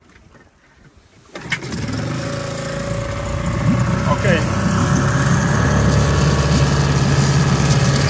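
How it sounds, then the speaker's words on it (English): An outboard engine on a Beneteau First 21.7 sailing yacht is pull-started, catching with a sudden roar after a second and settling into a loud, steady running note while a person speaks briefly. "Now the engine started, and we will leave it for 1 minute until it warms up."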